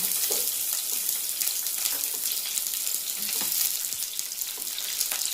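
Onions fry in hot oil in a pan for Udupi-style idli sambar, a dense, bright, continuous sizzle close by with light stirring scrapes, and no talking.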